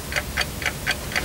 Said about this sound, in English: Ticking.